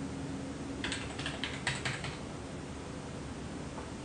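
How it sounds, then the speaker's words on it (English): Password typed on an iMac computer keyboard, a quick burst of about eight soft close key clicks, then quiet. "And I enter my password."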